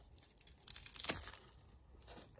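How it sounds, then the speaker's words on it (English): Plant stems infested with spider mites being cut off, a close, brief crunching snip with a short crinkling tear of dry foliage around it, then quiet. "So I'm just gonna cut them off like that."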